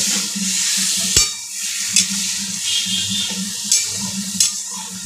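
Ginger and green chillies with spices frying in a pan with a soft continuous sizzle, punctuated by several scraping knocks of a spoon stirring against the metal.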